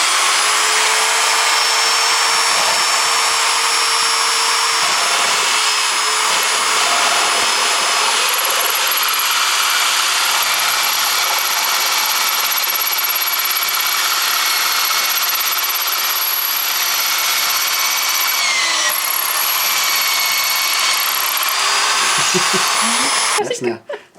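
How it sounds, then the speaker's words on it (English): A power drill with an 8mm bit drills out nut threads in a garage during mudguard work, giving a steady, loud, high-pitched whine that runs almost unbroken for over twenty seconds before cutting off abruptly. "I'm just going to drill the thread out so that they just drop straight on with an 8mm drill bit"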